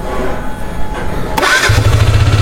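A KTM RC 125 motorcycle that had trouble starting cranks and then fires up, a brief whirr of the starter followed by a close, loud engine catching into a rough idle.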